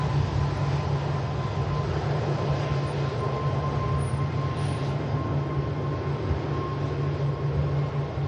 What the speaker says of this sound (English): EasyJet is lining up and is already spooling up, in fact.